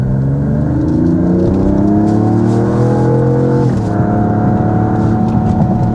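A 2026 Dodge Charger Scat Pack Blacktop with a six-cylinder engine revs loudly and close, a rising engine note that climbs, drops off briefly, then holds a steady high drone.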